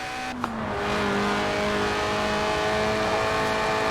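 A mid-engined, rear-drive 1990s Lotus Elise roadster in Forza Horizon 4 driving with a steady, loud engine note that dips briefly after a short click, then holds a constant drone close by.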